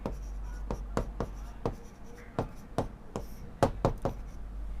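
Chalk tapping and scratching on a board during a Class 12 maths lesson on relations and functions, with about a dozen short, sharp strokes at uneven intervals, fairly close and alone.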